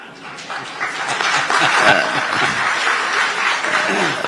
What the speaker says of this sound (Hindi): लोग बहुत ताली बजा रहे हैं